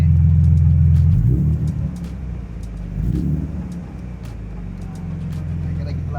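A BMW E34 520i engine idles, then is revved twice in quick bursts, each swell of rumble rising and falling back to a steady idle.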